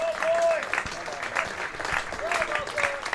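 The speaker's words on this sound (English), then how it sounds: "The applause from the home crowd" Home crowd at a county cricket match, Gloucestershire v Glamorgan, applauding steadily and moderately loud for the whole stretch, a broad clapping wash with a few faint voices mixed in.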